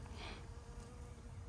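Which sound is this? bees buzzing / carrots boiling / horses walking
bees buzzing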